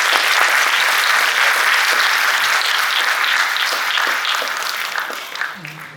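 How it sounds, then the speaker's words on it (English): An audience at a Bharatanatyam arangettam in New Jersey bursts into loud, dense applause after the opening dance, the clapping holding steady before thinning out toward the end as a voice begins to break through. "Let's give Sumati another round of applause."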